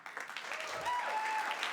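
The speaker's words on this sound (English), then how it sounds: "can we give a nice big applause to Michael Buttridge?" Audience applause at a spring concert, a soft, distant wash of clapping with a faint tone running under it.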